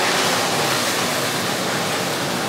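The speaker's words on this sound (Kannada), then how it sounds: "ಈಗ ಬಿಸಿನೀರು ಡೈರೆಕ್ಟ್ ಇದಕ್ಕೆ ಹಾಕ್ತೇನೆ. ಕುದಿಯೋ ನೀರು, ಕುದಿಯೋ ನೀರು ಹಾಕ್ತಾ ಇದ್ದೀನಿ." Boiling water pours straight into a cooking pot for uppittu, producing a loud, continuous rushing splash close by with no pauses and no voices.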